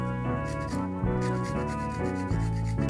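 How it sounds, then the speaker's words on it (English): Fresh ginger root rubbed against a grater for rum punch, steady close scraping strokes in an even back-and-forth rhythm over a background hum, with no talking. "I'll grate some ginger."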